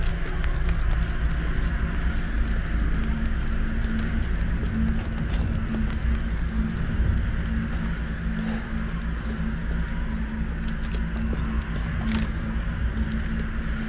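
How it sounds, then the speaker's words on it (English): Birds coo and call over a dense, steady outdoor ambience in Resident Evil Village, the calls mixed into a constant low rumble rather than standing out sharply. "Those birds are loud."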